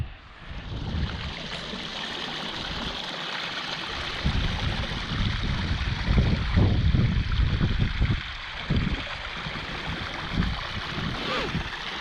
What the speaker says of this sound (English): Some water running off the moor.